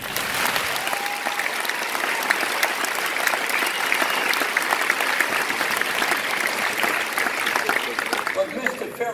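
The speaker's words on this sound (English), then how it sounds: "Round of applause." Audience applause at a summit speech, a dense, continuous wash of clapping from a large crowd that holds steady for several seconds before thinning at the end.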